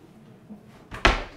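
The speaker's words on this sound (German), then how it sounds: "selbst das hier ja, ist eine Schublade mit Vollauszug" A drawer on a full-extension runner opens with a soft slide, then ends in one loud, close clunk that fades out quickly.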